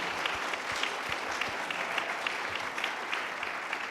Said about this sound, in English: a clap for the talent that's come from Western